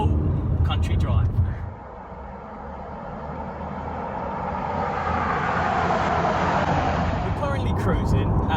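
A BMW E87 116i accelerates to overtake on a country road, its engine and road noise swelling steadily from inside the car after a voice stops.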